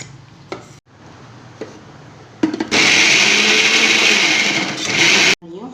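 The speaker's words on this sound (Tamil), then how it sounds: "இதை அரைச்சிட்டு வந்துடலாம்" A mixer grinder grinds small onions and tomatoes, whirring loudly for a few seconds in a steady high-pitched roar, preceded by quieter kitchen clicks and handling noises.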